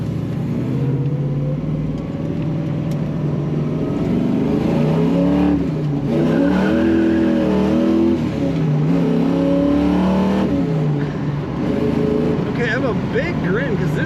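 A 1970 Chevrolet Camaro Z/28 with a 4-speed manual accelerates hard, its V8 roar climbing in pitch through several gears with brief dips at each shift, loud and close throughout.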